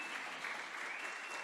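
A church congregation clapping together, a brief, even wash of applause from many hands, moderately distant and unbroken.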